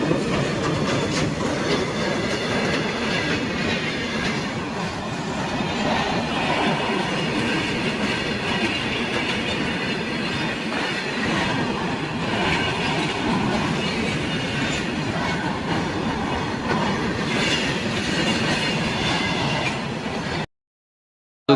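A long freight train rumbles steadily past nearby, wheels clacking rhythmically with occasional metallic squeals, loud and continuous until it ends suddenly.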